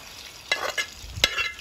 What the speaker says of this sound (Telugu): ఇవన్నీ రొయ్యలన్నీ మనం ఉడకబెట్టినన్నీ వేసేసుకొని చక్కగా గోల్డెన్ కలర్ వచ్చే వరకు మనం వేయించుకుందాము